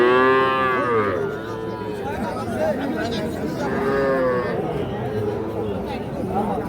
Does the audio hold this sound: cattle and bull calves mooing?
yes